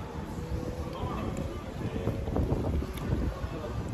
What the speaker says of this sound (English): Nice and breezy.